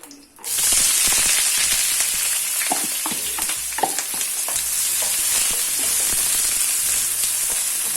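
Onions going into hot oil in a stew pan for beef lasagna, a loud steady sizzle starting abruptly after a brief quiet moment and continuing with scattered crackles and stirring clatter throughout.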